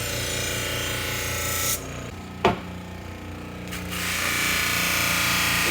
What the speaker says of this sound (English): 600 grit aluminum oxide wheel. Soften, loosen, and it prepares the machete for the final step.